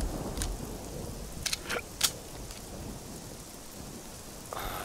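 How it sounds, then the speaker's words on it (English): Steady rain pours down in the Generation Zero video game, a dense hiss broken by a few brief sharp crackles, with no talking. "Pissing down fucking rain."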